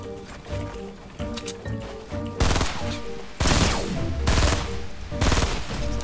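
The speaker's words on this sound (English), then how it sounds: "And we have a shotgun." Gunfire from the Fortnite video game, with several loud shotgun-like blasts in quick succession over the game's background sounds, and no speech.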